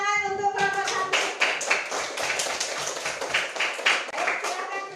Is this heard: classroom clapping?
yes